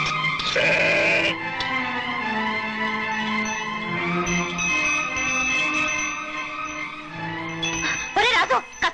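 A sheep at a butcher's gives long, wavering bleats, loud and close, with brief talk mixed in.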